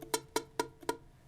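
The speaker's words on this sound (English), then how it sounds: "chances are you're muting the strings here with your finger" Four quick, dull ukulele strums with the strings muted by a finger: short percussive thuds in an even rhythm, with little ring after each, quiet and alone.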